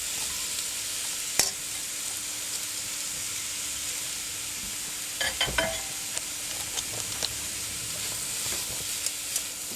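Rice and vegetables stir-fried in a pan during a school cooking demonstration, a steady loud sizzle with occasional scrapes and stirring clatters, no talking.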